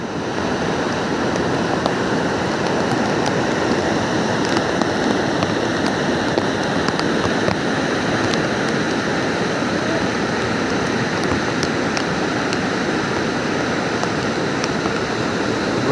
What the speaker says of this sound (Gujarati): આ જો પાણીનું ઝરણું.